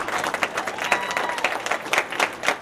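A crowd of supporters wearing red applauds in a Campbell County courtroom, a steady round of clapping with sharp individual claps standing out, moderately loud and continuous throughout.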